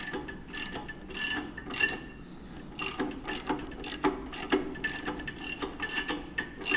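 A ratchet wrench tightens the spark plug on a Honda GX270 engine of an air compressor, a series of close, crisp clicking bursts in short irregular strokes, with no speech.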